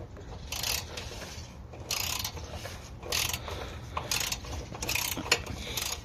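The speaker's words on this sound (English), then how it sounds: "this is a 1/2 inch adjustment nut down in here. Now I'm gonna go leftsy-loosey on this one" A ratchet loosening a 1/2 inch adjustment nut on a Ferris mower, repeated bursts of rapid clicking in a steady back-and-forth rhythm, close and clear with no talking.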